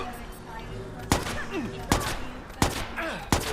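Gunfire in the video game Watch Dogs, four sharp shots spaced roughly evenly over a few seconds, loud against a steady game background hum with occasional voices in the mix.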